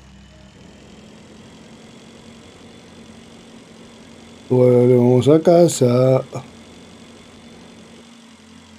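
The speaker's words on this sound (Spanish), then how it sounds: "Pero montado en una moto." A motorbike engine in the space-survival game Breathedge hums and idles at a low, steady level, while someone speaks briefly over it in the middle.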